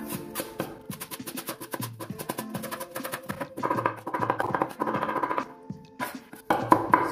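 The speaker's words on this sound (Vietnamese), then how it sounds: "Với hành lá thì mình cũng thái nhỏ xong rồi cũng băm sơ qua các bạn." A knife rapidly minces chopped green onions on a cutting board while pig blood sausage is prepared, making quick, dense, irregular tapping chops up close with brief pauses.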